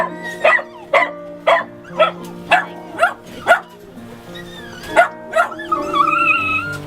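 A rescue dog adopted from a Southern shelter barks in a series of about eight sharp, fairly close barks at a steady pace, then a higher whimpering whine follows.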